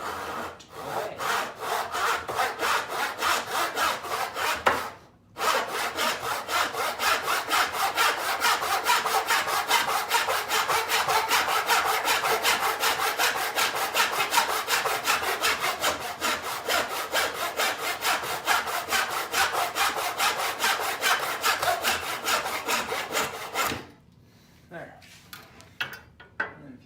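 Hand saw cutting a wooden board clamped in a vise, with steady rapid back-and-forth rasping strokes running loud and close for most of the stretch, one brief pause early on, and the strokes ending near the close.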